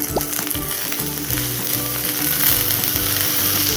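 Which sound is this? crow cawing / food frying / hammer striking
food frying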